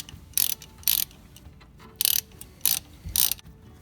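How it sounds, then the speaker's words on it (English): A ratchet backing out a brake caliper guide pin bolt on a 2005 Honda Pilot, five or six short raspy clicking bursts with pauses between them, fairly quiet and close, with no talk. "we can take it out the rest of the way with the ratchet."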